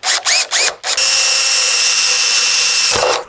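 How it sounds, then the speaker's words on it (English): A power drill bores holes in the backing plate of a Scout II rear bench seat: three short whirring bursts, then one long sustained high whine that winds down, loud and close. "So we'll drill these and rivet them"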